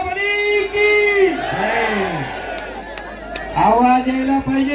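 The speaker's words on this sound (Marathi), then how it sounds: "बोलो बजरंग बली की" At a kusti wrestling bout between Sikandar Shaikh and Mauli Kokate, a loud crowd roars back in a drawn-out chant answering a 'Bajrang Bali' call, with a single voice leading over the mass of voices.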